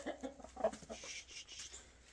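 A hen clucking up close, a few short soft clucks and chirpy calls in a quick uneven series, with faint outdoor background.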